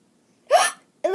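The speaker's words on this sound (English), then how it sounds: "It'll stop the hiccups in a minute." A child hiccups twice after drinking juice too quickly, two short, close, sharp bursts about half a second apart with a breathy, voiced catch, in an otherwise quiet room.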